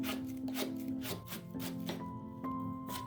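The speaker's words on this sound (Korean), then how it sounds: "얇게 채를 썰리듯이 잘라주셔야" A knife cuts hard quince into thin strips, giving quiet, regular tapping chops on a board, about two or three per second, under a steady tonal background.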